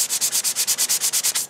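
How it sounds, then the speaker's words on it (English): Rust being sanded off metal by hand: about a dozen quick, even back-and-forth scrubbing strokes, gritty and close, in a steady rhythm with no talking. "you're going to be staring at me sanding this till the end of time"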